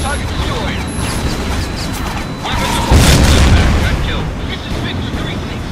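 Missile launch and explosion in the flight combat game Tom Clancy's HAWX, a steady rumbling roar swelling into a heavy boom near the middle, with game noise throughout.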